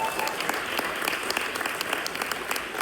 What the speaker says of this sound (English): Give God a big round of applause